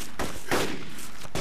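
Shotgun blasts in the BMRF video game, three heavy booming shots spaced unevenly across a short stretch, loud and close with brief decaying tails and no speech.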